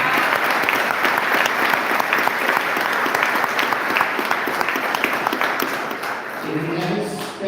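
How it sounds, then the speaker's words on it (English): Audience at a community sheriff's forum in a hotel ballroom gives a steady round of applause, dense clapping sustained for about six seconds before thinning out as a voice begins speaking near the end. "So, round of applause."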